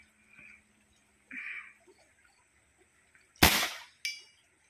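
An airgun fires at an 80 meter target, a single sharp, loud crack after a quiet stretch with faint clicks, followed moments later by a fainter metallic tick.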